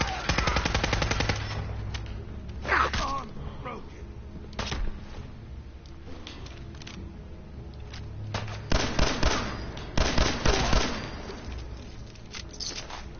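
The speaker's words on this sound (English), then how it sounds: "this actually is not a modded pistol. This is just regular pistol as it is, and it's kind of fun to use" A regular, unmodded pistol firing in Fallout 4: rapid bursts of sharp, close shots at the start and again in clusters later, with scattered single reports between and some talking underneath.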